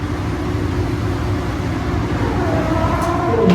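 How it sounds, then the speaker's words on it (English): Steady, close interior rumble and hum of the PHX Sky Train airport shuttle while riding, a continuous drone that swells slightly toward the end, with no voices. "let's get back on the Skytrain and ride it all the way to the other end at 44th Street"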